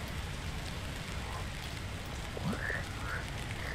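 Rain falls steadily in the video game Until Then, a constant dense patter with no breaks, joined by a brief rising tone partway through.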